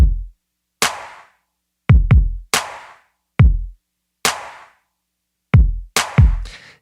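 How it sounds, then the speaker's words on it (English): A clap layered over a deep kick drum, about a dozen hits in an uneven electronic groove, each sharp bright snap sitting on a booming low thump, played alone without voices. "And then we have this clap track over top of that."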